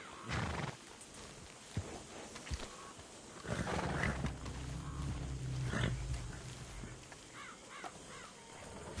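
Horses whinnying and snorting in the Red Dead Redemption 2 video game, several loud neighs near the start and middle, with hoof clip-clop, crows cawing in the background and no speech.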